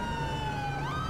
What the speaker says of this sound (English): All right, set our siren now.